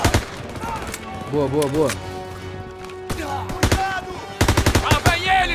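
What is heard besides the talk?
machine gun fire in video game Call of Duty WW2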